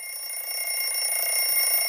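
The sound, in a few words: alarm clock going off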